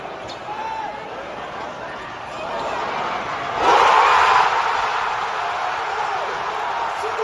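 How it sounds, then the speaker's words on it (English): A basketball arena crowd at Madison Square Garden during a Knicks game roars continuously, then swells sharply partway through into a louder, sustained cheer. "Look at the crowd at MSG."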